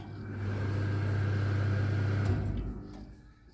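A Nijshyam NS 949 ceiling fan winding machine motor hums steadily at close range, then winds down and stops after reaching its set turn count, leaving a quiet tail.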